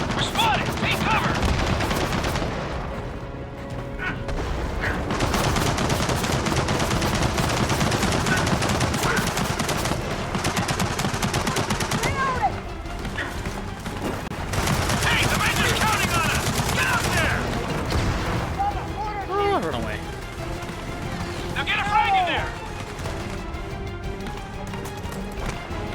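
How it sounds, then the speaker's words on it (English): Gunfire from a machine gun nest in the video game Gears of War 4, busy battle noise with repeated bursts and impacts running throughout, loud and dense, with a voice talking over parts of it. "Push up. Machine gun nest."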